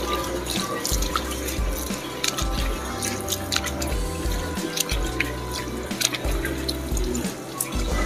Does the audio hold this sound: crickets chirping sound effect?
no